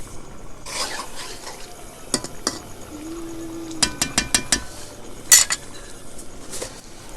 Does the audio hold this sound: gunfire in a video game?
no